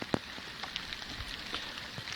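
Steady rain falling outdoors, with a soft continuous patter and a few sharper drops striking close by, quiet and unbroken by voices.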